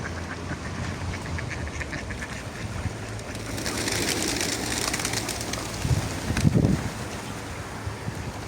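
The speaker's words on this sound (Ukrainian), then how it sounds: "І голуби, і качки." Outdoor ambience by the Berezivka river in Oleksandriia, Ukraine, with pigeons and occasional quacking ducks, wind and water in the background, plus a brief closer splashy burst.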